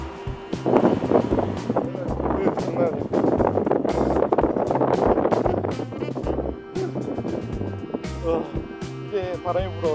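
Strong wind at a 22nd-floor viewpoint overlooking Gwangalli Beach in Busan, rushing and buffeting steadily through the whole stretch while someone talks continuously over it.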